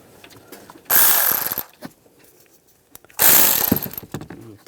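A ratchet tightens the belt guard bolt on a 1999-2006 Chevrolet Silverado 1500, making two close, loud bursts of rapid clicking about two seconds apart, with quiet gaps between them.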